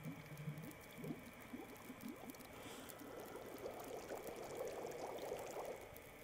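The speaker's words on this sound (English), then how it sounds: "Let's boil this water." Water boiling in a pot in the survival game The Long Dark, a soft, steady bubbling and gurgling that swells slightly toward the end, faint and without speech.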